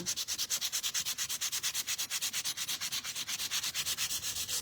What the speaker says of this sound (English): as I am sanding it, you can see how we're just sort of pulling out different grains of wood